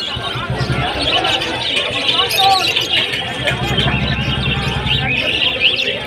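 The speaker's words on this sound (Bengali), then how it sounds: "এটা বদ্রি।" Budgerigars chirp and twitter in busy bursts at a crowded market stall selling birds and animals, with background chatter and market bustle mixed underneath.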